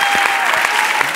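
A studio audience at a children's singing-contest final on Spanish television claps for the singer, steady applause throughout with a little cheering and a shouted voice mixed in.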